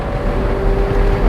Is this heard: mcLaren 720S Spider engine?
yes